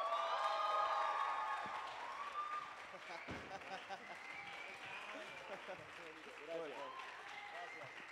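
A studio audience breaks into applause to welcome a guest, loud at first and then fading into scattered clapping while voices talk over it.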